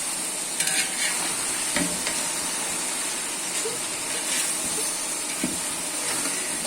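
Mutton biryani, with mutton marinated in salt and curd, is stirred in a pot over steady sizzling and hissing, with occasional scraping clinks of the spoon against the pot.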